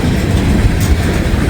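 A long train creeps slowly past near a house in Walton, producing a loud, close, steady roar of rolling wheels and rumbling cars that fills the whole moment without any talk.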